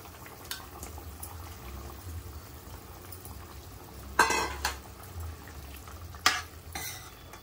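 A prawn curry simmering in a pot, with a low bubbling, gentle liquid sounds and a few sharp clatters from a spoon or lid, quiet overall.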